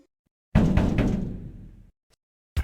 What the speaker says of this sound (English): Someone is knocking on the door behind them.